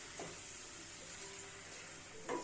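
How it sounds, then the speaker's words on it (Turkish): Onions frying in a pan, a faint, steady sizzle with soft crackles and a brief louder stir near the end, no voices. "Ve şimdi soğanımı kavuruyorum"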